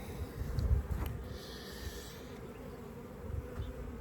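Close, low buzzing hum of honey bees at a drone-laying hive, swelling and easing in pulses with a few louder passes near the microphone.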